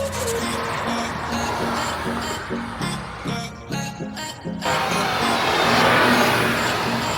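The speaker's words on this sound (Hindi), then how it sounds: "So now we are driving the all new Renault Kiger and अभी ट्रैक पे है।" A new 2025 Renault Kiger car drives on a test track, its engine note rising and settling as it accelerates, heard close with a steady hum and some wind and road noise, and no one speaking.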